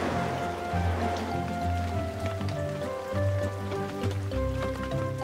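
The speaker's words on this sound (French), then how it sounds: "Le bulldozer, le tracteur et la moissonneuse-batteuse sont restés dehors, sous la pluie." Steady rain patters on a surface, with a soft continuous hiss and drips, mixed with a gentle tonal melody in the background, in a children's cartoon.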